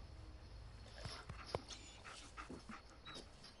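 Dog panting in the video game Fallout 4, with soft, quiet breathing and a few faint sniffs and whimpers, heard alone without talk.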